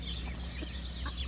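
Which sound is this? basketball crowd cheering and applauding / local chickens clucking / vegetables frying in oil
local chickens clucking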